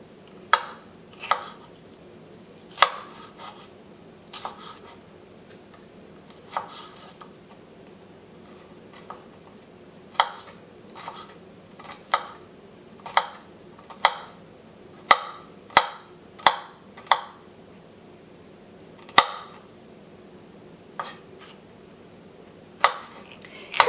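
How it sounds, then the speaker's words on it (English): A knife chops ají dulce peppers on a cutting board, giving a long run of sharp, close taps at an irregular, unhurried rhythm with short pauses between groups, and no voices. "We can now chop the ají dulce."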